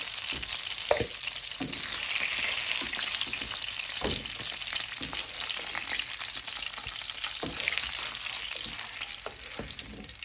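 Rohu fish heads sizzling in oil give a continuous hiss up close, with a few distinct knocks and scrapes as pieces are stirred and lifted from the pan.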